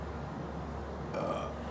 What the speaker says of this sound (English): And that was a pitiful burp too.